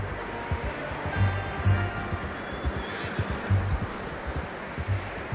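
A horse whinnies amid video game ambience, with low thumping hoofbeats and rumbling underneath, fairly close and moderately loud.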